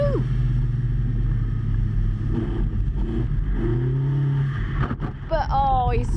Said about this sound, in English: Running down now into the very difficult last right-hander where Joe had a moment in practice.